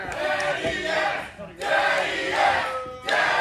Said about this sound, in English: As the crowd here in Athens states what they want, and everybody wants to see Daddy Ass tagged